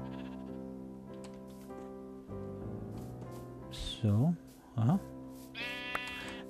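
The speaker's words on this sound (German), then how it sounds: "Schafe." Two loud, wavering Minecraft sheep bleats break through a steady background music drone, with brief speech at the start and end.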